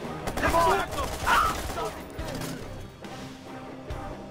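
Gunfire in the video game Watch Dogs, a burst of shots clustered in the first second and a half, loud and close, then a duller rumbling stretch with scattered thuds, mixed with a voice talking.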